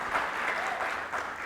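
A church congregation claps together for the word of God, a dense, even wash of applause that continues without voices.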